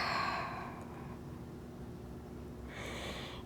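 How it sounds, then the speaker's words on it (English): Someone exhales a long, soft breath while rounding the back in a yoga cat-cow stretch, a breathy whoosh at the start fading to quiet, then another gentle breath at the end. "Exhale the air out as we bring chin to chest, round the back."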